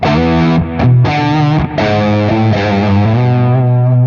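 An electric guitar played through a Mesa Lone Star amp with echo and a loop rings out in sustained, harmonically rich chords, with brief pauses between strums and long repeats trailing off at the end.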